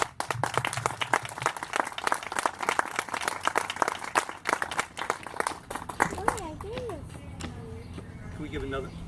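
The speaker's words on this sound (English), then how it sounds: "Give another applause for this young veteran, please." Loud applause from a crowd at a Memorial Day speech, dense clapping that fades toward the end as a voice starts speaking.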